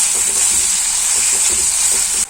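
Onions with salt frying in a pan, a close, steady sizzle with a bright hiss throughout, punctuated by faint stirring scrapes, ending abruptly.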